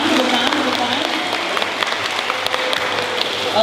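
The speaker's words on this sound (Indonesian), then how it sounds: "Tepuk tangan." Applause from an audience at a school debate final, a dense steady patter of many hands clapping throughout, fairly loud and close.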